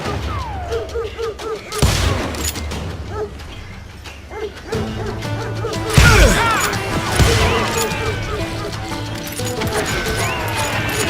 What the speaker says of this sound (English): Shoot that bastard!